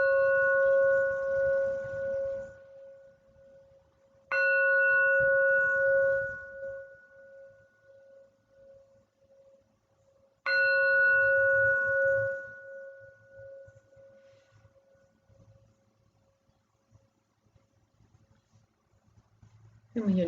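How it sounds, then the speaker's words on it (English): A singing bowl struck three times during a guided meditation, each strike a clear bright chime ringing out and slowly fading, with a soft spoken voice between strikes. "next few moments to be an observation of sound through singing bowl."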